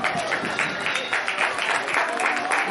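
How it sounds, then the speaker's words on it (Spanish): A small crowd at a spring break track and field meet claps for a runner, a steady patter of applause with faint voices mixed underneath, moderately loud throughout. "vamos a aplaudirla"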